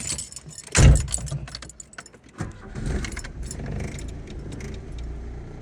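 A Volkswagen MK2 Golf engine starts: keys jangle briefly, the starter cranks, and the engine catches into a steady idle, heard up close from inside the car without talk.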